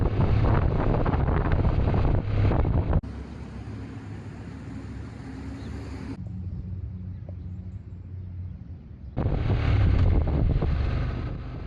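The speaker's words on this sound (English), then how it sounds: "It wasn't long after arriving that the wind picked up" Loud wind buffets the microphone while riding a motorcycle in Central Texas, heavy rumbling gusts that drop to a quieter hiss midway and then surge back to full strength.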